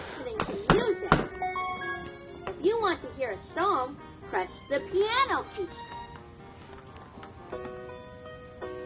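Plastic keys on a Little Einsteins Blast-Off Learning Laptop toy thunk and tap in a few sharp hits near the start, followed by the toy's bright electronic melody tones and chirps playing on.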